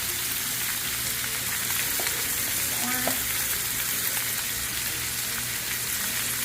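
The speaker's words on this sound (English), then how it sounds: "you want to stir that in really good and cook your flour" Flour stirred into hot oil in a pan while cooking a gravy, giving a steady dense sizzling hiss with faint occasional utensil taps, close and even throughout.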